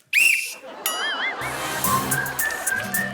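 A person whistles through their hand, producing shrill wavering high notes in short bursts, alongside splashing water and noisy background sounds.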